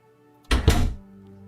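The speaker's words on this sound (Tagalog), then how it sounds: "bigla na lang nagsara ang pinto" A door slams shut suddenly as a radio drama sound effect, one hard, close thud with a short second knock, then quiet room tone.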